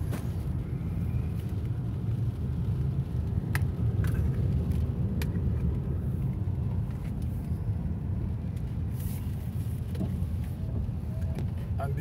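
A car drives on a wet road on the way to a shop in Luton, UK, giving a steady, close low rumble of engine and road noise with a few faint ticks, and no voices.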